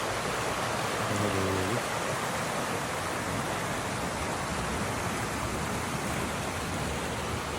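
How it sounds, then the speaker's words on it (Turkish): A stream flows beside a lakeside walking path near Mondsee, giving a steady, broad rushing of water that stays constant and fairly close throughout, with no voices heard. "Yani hakikaten yanımızdan nehir akıyor. Hatta nehir demeyelim de dere, dere diyelim."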